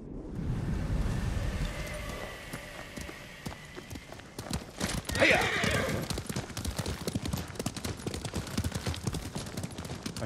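A horse gallops with rapid clip-clop hoofbeats and lets out a neigh midway, in the video game Ghost of Tsushima, with a voice speaking over the ride.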